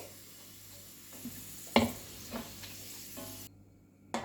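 Raisins fry in hot ghee with a soft continuous sizzle, broken by a couple of sharper clinks and stirs of a utensil against the pan, then a short silence before another clatter.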